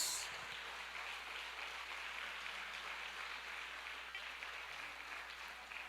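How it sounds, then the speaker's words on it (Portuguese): A church congregation claps during a worship service, producing a continuous wash of applause at moderate distance that holds steady and fairly soft throughout. "Aplauda Jesus."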